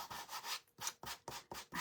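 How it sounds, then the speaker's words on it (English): A small sander runs over dried paint on a wooden teacher welcome door hanger, making a series of close, rhythmic rubbing strokes with brief pauses between passes. "if you'll let it dry and then just take your little sander and just go right over top"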